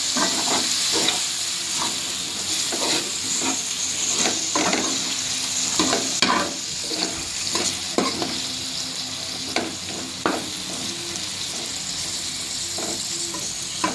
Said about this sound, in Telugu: ఇప్పుడు మనం ముందుగా కట్ చేసి పెట్టుకున్న టమోటా ముక్కలు వేసి ఫ్రై చేద్దాం